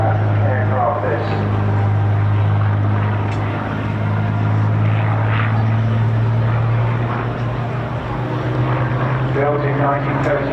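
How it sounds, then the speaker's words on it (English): Mark 1 Hurricane, a 1939 propeller fighter built by Gloster, flying at the Bournemouth Air Festival: a loud, steady engine drone with a low throbbing hum sustained throughout. "they will now bring in the Mark 1 Hurricane, a truly historic aircraft this"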